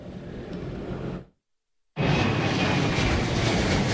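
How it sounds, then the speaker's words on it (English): A passenger jet roars loudly and steadily while taking off or landing at Reagan National Airport. The broad engine rumble cuts out briefly, then returns even stronger and continues. "Whether it was a plane taking off for Houston or one landing from White Plains, New York"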